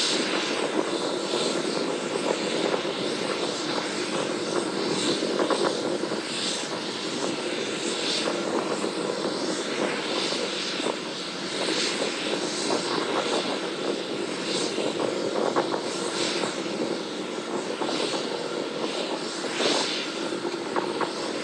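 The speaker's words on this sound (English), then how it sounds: "continuing to climb on power of two engines" Starship rocket engines on a flight test, climbing on two engines, produce a loud, steady, unbroken roar with a rough rushing texture that holds at one level throughout.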